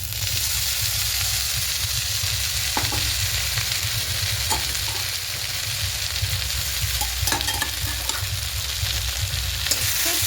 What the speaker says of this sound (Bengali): খুব ভালো করে একটু 2-3 মিনিট ভেজে নেবো